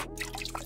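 Water trickles and drips into a cup holding Dove soap, a soft, close liquid dribble lasting under a second with a faint steady hum behind it.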